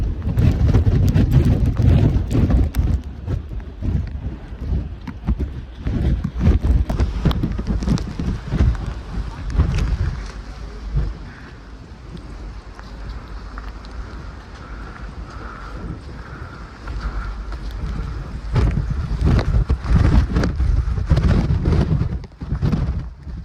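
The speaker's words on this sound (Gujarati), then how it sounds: "પવન ખતરનાક હો, ફૂલ પવન આવે" Fierce wind on Girnar hill near Junagadh rushes in loud, broad gusts that swell and fade over a long stretch, dipping briefly midway before building again, close and unbroken.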